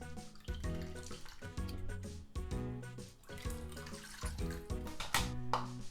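Soy sauce pours into a small pot of soup for chashu, a faint, quiet trickle that is partly masked by rhythmic background music.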